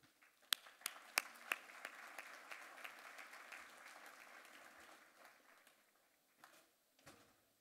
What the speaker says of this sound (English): You don't know how much it means to a provost to get a round of applause